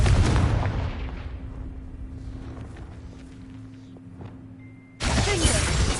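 Confringo fire spell blast in Hogwarts Legacy, a loud burst with a crackling, shattering tail that fades over several seconds, followed by a second abrupt loud blast near the end, no talking.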